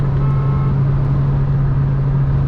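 Opel Astra G Classic 2005 1.6 Ecotec car under light throttle, a steady loud low engine drone with road rumble continuing evenly throughout, no talk.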